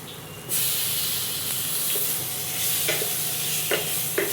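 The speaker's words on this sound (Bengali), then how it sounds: "একটু টমেটো দিয়ে দিই।" Tomato frying in a pan with fried potatoes, nigella seeds and chili powder, giving a steady loud sizzle with occasional stirring scrapes and knocks, alone without voices.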